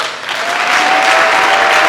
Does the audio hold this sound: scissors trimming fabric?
no